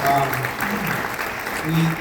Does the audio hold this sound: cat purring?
no